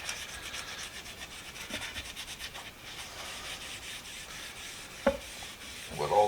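Dark finishing paste is rubbed onto a brush axe's wooden handle, with soft, continuous scrubbing strokes close by and a couple of sharper knocks near the end.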